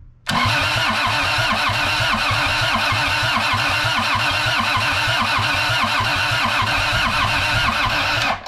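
A Kubota engine cranks steadily for about eight seconds without firing, the starter's rapid rhythmic chugging loud and close throughout, then stopping abruptly.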